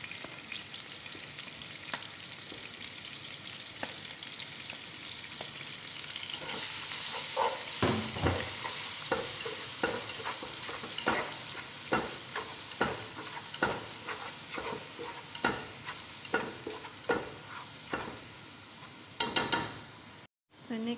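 Three onions sautéing in oil for fish maqluba: steady close sizzling throughout, joined midway by rhythmic scraping and stirring clatter of a utensil against the pan.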